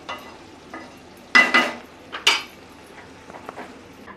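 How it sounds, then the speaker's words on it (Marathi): Cooked sprouted fenugreek and dill vegetable being stirred with coriander in a pan, two short bursts of scraping and clinking from a spoon against the pan over a quiet background. "कोथिंबीर घालूया, मिक्स करून घेऊया"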